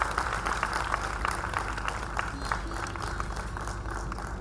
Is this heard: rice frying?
no